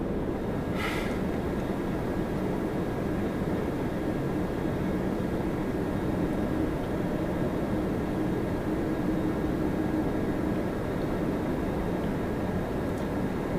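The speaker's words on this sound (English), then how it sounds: "that plane's turning on the taxiway" An airliner taxiing at Toronto Pearson airport gives a steady broad jet roar at moderate distance, unbroken for the whole stretch, with a brief higher whine near the start.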